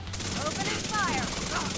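Rapid automatic gunfire in the video game The Division 2, a dense continuous burst of shots with a sweeping electronic tone over it, loud and close, lasting under two seconds.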